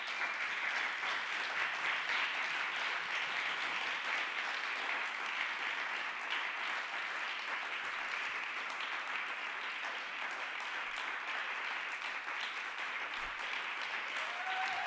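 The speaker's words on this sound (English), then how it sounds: "give them a round of applause" A steady round of applause from a conference audience for panel members at a plenary session, dense and continuous clapping that fills the room for around fifteen seconds at an even level.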